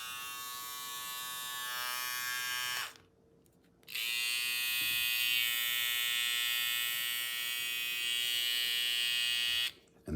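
A Flex hair trimmer runs with a steady, high-pitched electric buzz close up, stopping briefly once near the start before humming on again, alone without talk.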